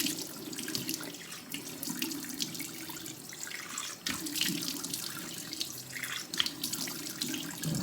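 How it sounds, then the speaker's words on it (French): Tap water runs into a sink while a face is rinsed, a continuous splashing stream broken by irregular splashes and hand movements, close and steady. "maintenant, je vais rincer ma figure."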